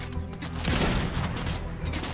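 Gunfire in Fortnite Chapter 3 gameplay: a dense, continuous burst of shots rattles through a busy game mix, loud and sustained from start to finish.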